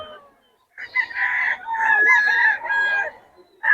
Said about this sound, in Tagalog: Ang lalaki ng manok ni boss Batang